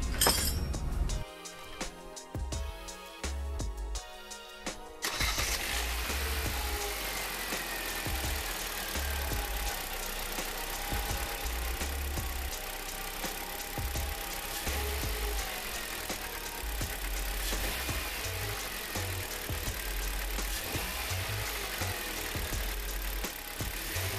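A Hyundai Solaris engine with a newly fitted belt tensioner starts after a few seconds of clattery cranking and then settles into a steady, continuous idle close by, with no talking.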